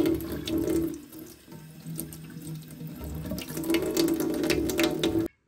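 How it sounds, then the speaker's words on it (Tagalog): Leaves are washed under a running kitchen tap, with water pouring steadily and splashing in the sink. The sound is close and continuous, with no talking. "Kailangan nating hugasan para matanggal ang lupa o dumi."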